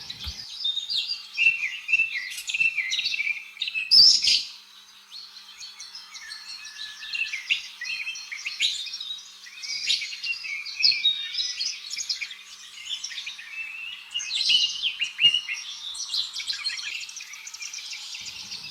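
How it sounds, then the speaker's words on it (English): A parrot gives a long run of shrill, chattering calls and squawks, dense and continuous at moderate loudness, with no talking. "P for parrot."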